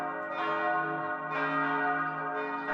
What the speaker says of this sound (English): bells from the Greek Orthodox Church rang out, signifying the end of the war